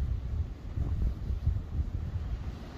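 Wind buffeting a microphone on a beach, a continuous low rumbling gust that rises and falls without a break, with no voices.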